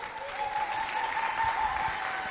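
Crowd applause at a children's holiday event between two groups, Fondation Dieu Béni and SOS Village d'Enfant, heard as a short, steady burst of clapping with a faint constant tone running underneath.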